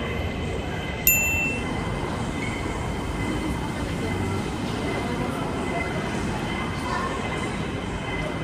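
Airport people-mover train at Hong Kong International Airport, a steady rumbling rail hum with rolling wheel noise throughout, a brief high chime near the start, no talking.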